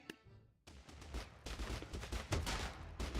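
Shotguns firing buckshot in a Totally Accurate Battle Simulator battle, a rapid barrage of overlapping blasts that starts after a short lull and keeps up steadily at moderate loudness with no talking.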